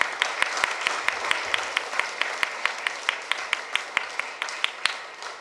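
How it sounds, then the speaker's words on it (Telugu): An audience at a health workshop claps loudly in unison, steady rhythmic beats repeating about four times a second for several seconds, close and bright. "ఆహ్వానించి గట్టిగా చప్పట్లు కొడదాం."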